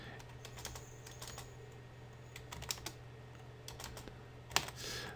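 Someone types a Linux install command on a computer keyboard with a slightly finicky E key, giving a run of close, crisp key clicks in irregular bursts with a few heavier strokes, heard without any talk.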